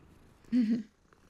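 Cat in Hogwarts Legacy giving a short, close purring rumble lasting under half a second, alone against a quiet game background.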